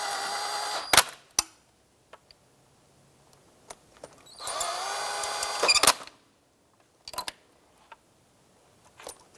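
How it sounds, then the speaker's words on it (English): Intake bolts are run down to bottom out with a power tool on a 2005–2007 Ford Five Hundred during an ignition coil replacement, in short bursts of whirring separated by quiet gaps and sharp clicks of tools. "With all of the bolts started, I'm going to just bottom them out."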